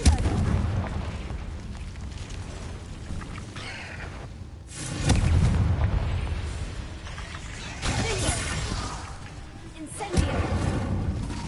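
A Confringo fire spell bursts in a cave in Hogwarts Legacy, a sudden loud blast near the middle with a rumbling tail and a second sharp burst later, over ambient game noise and music.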